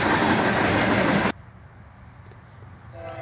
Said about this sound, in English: Foreign power on this one, as a Norfolk Southern -9 leads, followed by a CSX ES40DC.